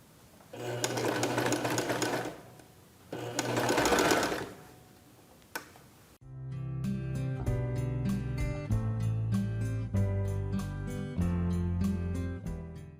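A sewing machine stitches a dress shirt collar in two loud close bursts of rapid whirring, then music plays for the rest.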